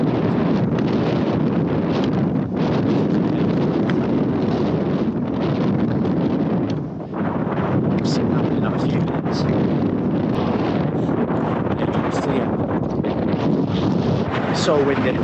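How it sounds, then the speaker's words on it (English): Strong gusty wind buffets the microphone on an exposed Snowdonia mountainside during the Original Mountain Marathon, a continuous loud roaring rush that drowns out most other sound. "So windy."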